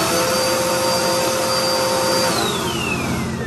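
A vacuum cleaner hooked up to a Flowbee hair-cutting attachment runs loud and close with a continuous steady whine, and its pitch slides downward near the end.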